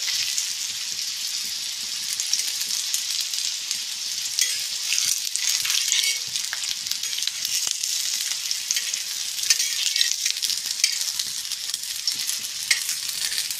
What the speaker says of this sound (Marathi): तुम्ही अशा तेलामध्ये सोडून नुसतेच अशा फ्राय करून घ्या.